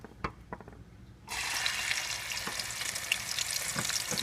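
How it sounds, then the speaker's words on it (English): Pinto beans hit a hot pot and break into a loud, steady frying sizzle after a few faint clinks, with occasional stirring scrapes, cooked for a Haitian bulgur wheat and coconut dish. "so you're gonna fry the beans"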